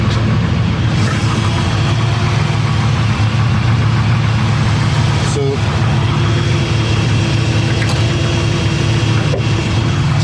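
The 4-liter engine of a 1996 Ford Aerostar idles close by, a loud, steady low rumble with a faint ticking texture and a brief clunk partway through.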